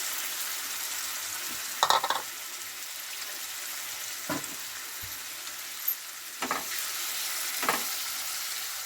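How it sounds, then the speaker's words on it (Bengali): Marinated chicken fries in hot oil under a soft, even sizzle, broken by several sharp spoon knocks and scrapes against the pan at irregular intervals; close and moderately quiet, with no voices. "তো এবার ম্যারিনেট করা চিকেনটা আমি তেলের মধ্যে দিয়ে দেবো।"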